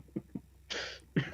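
A person's mock cough, played as an old Model T car's death rattle: three close bursts, two short low hacks and then a longer rasping, hissy wheeze ending in one heavier cough.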